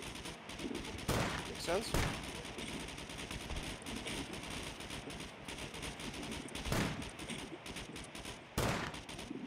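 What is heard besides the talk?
gunfire in the video game Scum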